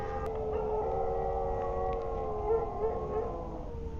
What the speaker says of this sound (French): Et c'est en train d'aboyer comme des loups.